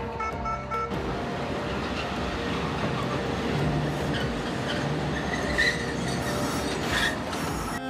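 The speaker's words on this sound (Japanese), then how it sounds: "交通では路面電車が非常に発達しており、市民の重要な足となっています。" A tram clatters along street rails in Nagasaki, its wheels squealing and rumbling steadily for several seconds, close by and loud with no talking.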